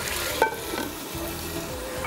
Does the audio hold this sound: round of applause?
no